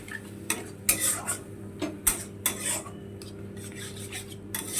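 Rui fish being mixed with a turmeric and chilli spice paste and fried in a pan: a quiet, intermittent run of metal utensil scrapes and knocks against the pan over a faint low sizzle, with no talking.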